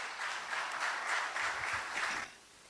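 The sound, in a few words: audience applause at symposium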